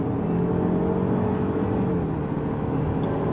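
A Lexus GS200t accelerates hard on the Yongin Speedway track, its engine holding a steady, loud, continuous drone with wind and road roar throughout.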